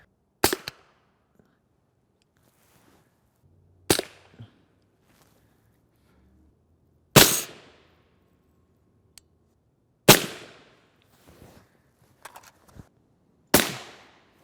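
Five sharp rifle shots of 55-grain M193 ammunition fired at a polyethylene body armor plate crack out one at a time, a few seconds apart, each with a short ringing tail and quiet gaps between.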